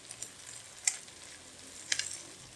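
Sliced onions sizzle gently in a pan with cumin and ginger-garlic paste, a soft, steady frying hiss. Two sharper scraping clicks from stirring stand out, close and quiet.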